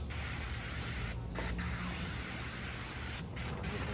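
A spray bottle hisses steadily onto a window during tinting, with a couple of short, sharper bursts, close by and fairly quiet.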